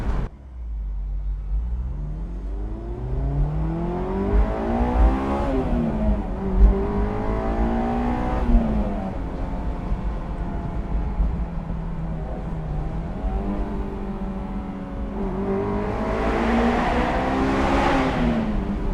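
A Honda S2000 AP1 engine pulls steadily while driving, its rising and falling harmonics climbing through the revs with a sustained rasp, loud and close from inside the car, with no talking.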